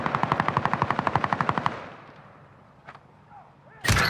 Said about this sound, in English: I just got sniped.